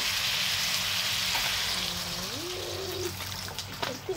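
A Filipino home-cooked dish simmers in a pan just after a little broth is poured in, giving a steady close sizzle and soft bubbling with faint liquid trickles and no talking.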